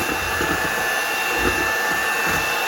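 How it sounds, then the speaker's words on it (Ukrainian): An electric mixer whips meringue in a bowl set over a water bath that is no longer heated. A loud, steady motor whir runs unbroken from start to finish, with no voices. "Спочатку на маленьких оборотах, ну а потім пришвидшуємо міксер"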